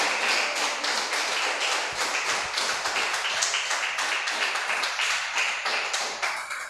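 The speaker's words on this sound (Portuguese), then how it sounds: "Vamos aplaudir Ele." A congregation at a church service claps in rapid, dense applause that carries steadily throughout, loud and sustained with no voices standing out above it.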